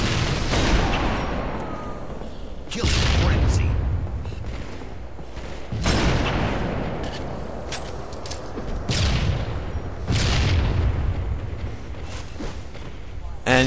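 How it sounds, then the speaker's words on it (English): Loud booming grenade blasts in a Halo game, several heavy explosive bursts spaced a few seconds apart over continuous gunfire and battle noise. "Throw another grenade to suppress him so I don't have to worry about him for a second."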